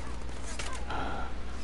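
Bursts of gunfire in a shooter video game, a quick volley of shots rising briefly over a steady background hum, with no talking.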